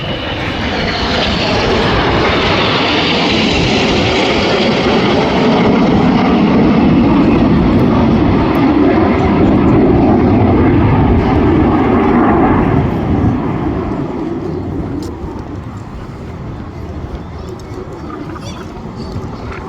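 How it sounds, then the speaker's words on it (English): Red Arrows jets roar through a head-to-head pass at an air show, a loud broad engine rush that swells and holds, then fades away into the distance over the last few seconds. "they're going to pass 100 feet apart"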